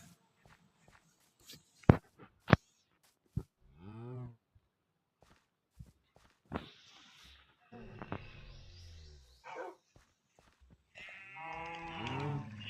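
Minecraft cows moo in the game, several drawn-out bellowing calls spaced apart, mixed with sharp clicks and blocky footstep thuds, close and fairly clear with no talk.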